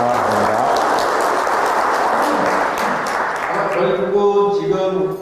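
Audience applause at a breakfast business forum lecture, a dense steady clatter of many hands filling the room throughout, with talk over it near the end.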